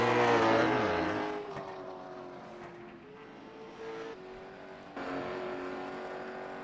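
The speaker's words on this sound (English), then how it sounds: "It's the only car left still riding around." A lone super late model race car circles a paved track, its engine note sliding down as it passes and then holding a steady, fairly loud drone with shifts as it works through the laps.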